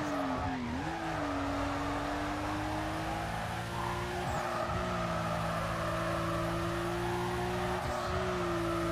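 Porsche 911 GT2 racing in NFS Carbon, a steady loud engine drone holding a high sustained tone with small pitch dips near the start and end, continuous throughout with no talking.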